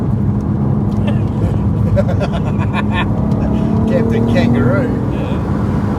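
A modified VW Golf R32 with a VR6 engine accelerates hard, its steady engine drone and rising tone filling the cabin from inside, with people talking briefly over it.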